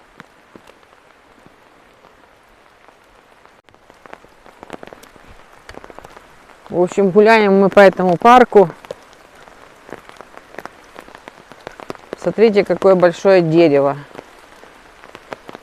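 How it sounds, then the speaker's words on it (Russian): Light rain patters steadily in a park on the grounds of a palace in Chraplewo, Poland, a soft hiss beneath two stretches of close conversational talk. "Чуть-чуть, конечно, дождь мешает."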